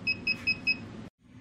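A DJI Phantom 3 drone beeps during a software update: four short, evenly spaced electronic beeps over a low background hum, which then cuts out abruptly.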